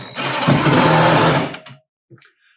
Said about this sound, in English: I'm going to run these screws in there